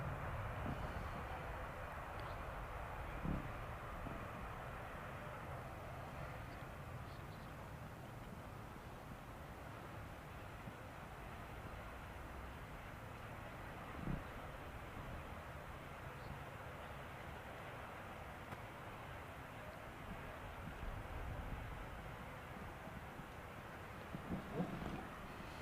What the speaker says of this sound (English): Aircraft's coming from Dublin, EGCC. So it's an ATR 76.